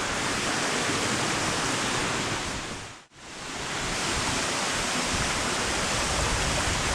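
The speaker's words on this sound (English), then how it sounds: "Let's get in there, have a closer up look at the waterfall." Hidden waterfall at Sombrio Beach on Vancouver Island roars as a steady, loud broadband wash of falling water, briefly dipping to near silence midway before swelling back to full strength.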